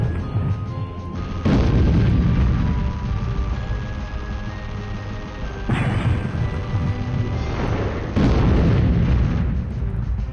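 Heavy explosions in the video game Storm Winds, a dense series of loud booming blasts and crashes that swell in bursts, rolling and rumbling continuously with no talking over them.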